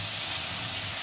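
Soy sauce hitting a hot pan of chow mein, giving a short, steady, loud sizzling hiss close up with no pauses.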